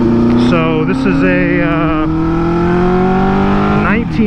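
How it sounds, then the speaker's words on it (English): A 1974 Honda CB400Four motorcycle's four-cylinder engine revs loudly while riding, its harmonic whine climbing through the gears with a shift near the middle, and someone talks over it throughout. "Honda CB400Four, and it's a screamer"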